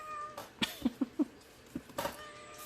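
A pet cat gives a quick run of short, soft meows and chirps indoors, several brief calls clustered together then a couple more after a pause, close but fairly quiet, with no talking.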